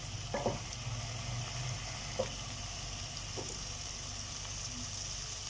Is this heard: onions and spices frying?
yes